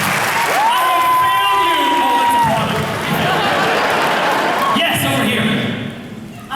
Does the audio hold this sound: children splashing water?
no